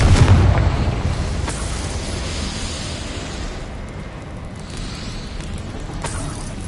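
A Confringo blasting spell exploding in Hogwarts Legacy, one heavy boom at the start that decays into a long rumbling roar of debris and fire, with faint secondary bursts later.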